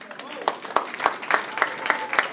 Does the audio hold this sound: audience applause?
yes